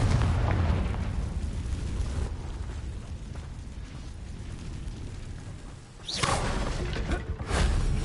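A Confringo fire spell explodes in the Hogwarts Legacy video game, a loud, rumbling blast that swells over the first seconds and then decays. A second sharp burst follows near the end.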